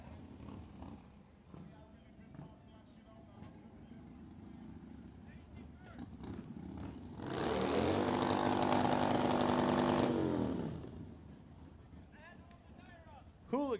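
A drift vehicle at a DrifterCross event revs hard and holds a loud, rising roar for a few seconds while warming its tire, then drops off, with an announcer talking before and over it.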